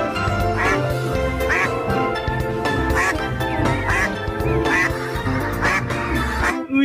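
Repeated quacking of a duck in Jurassic World Evolution 2 over bright, busy synthesized game music, several calls in an irregular rhythm, loud and close.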